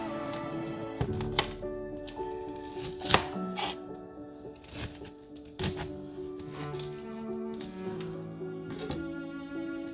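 A knife chops leeks into bite-sized pieces on a cutting board, with a handful of crisp, uneven knocks spread across the stretch, one especially sharp, heard over steady background music.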